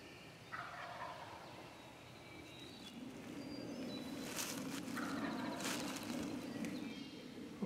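A wild turkey gobbles out in the woods at dawn during a spring hunt, a faint rolling call heard at a distance over soft ambient background.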